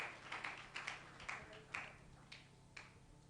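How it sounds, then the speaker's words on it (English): Sparse, weak applause from an audience at an event organizers' conference in Abuja: a handful of scattered, faint claps in an irregular rhythm, heard from a distance with no talk. "Give yourself a warm round of applause."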